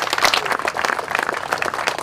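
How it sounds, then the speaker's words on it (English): Audience at a border-security event applauding, a brief, dense burst of clapping held at fairly loud level without talk. "how about a round of applause for your families who put up with this?"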